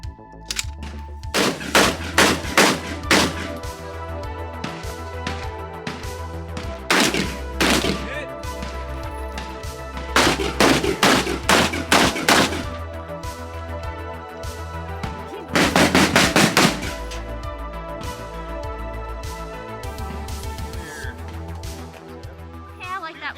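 A Brownells BRN-180 rifle in 7.62x39 fires in several loud, rapid strings of shots, each burst a tight cluster of sharp cracks with pauses between, over constant background noise outdoors.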